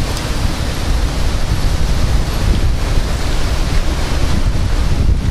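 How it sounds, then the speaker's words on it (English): Gusting wind roars steadily during a supercell thunderstorm with a shelf cloud near St. Louis, a dense, loud broadband rush buffeting the microphone for the whole stretch with no voices. "It's just wind, that's all this is."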